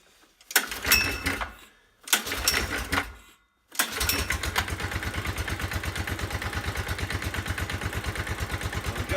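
A Kitty Kat mini snowmobile engine on its first test run sputters in two short bursts, then catches and idles steadily with a fast, even putter, close by and fairly loud.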